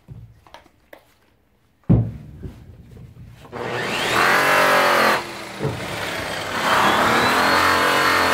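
A rotary polisher fitted with a yellow intermediate cutting pad works a checker (diamond) plate, its motor spinning up loudly after some quiet handling noises and then running in two sustained, whirring stretches with a brief dip between.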